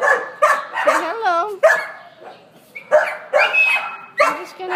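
Dogs in kennels bark, yip and whimper loudly at close range in repeated bursts, with a person talking over parts of the barking.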